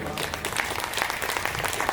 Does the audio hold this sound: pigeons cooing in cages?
no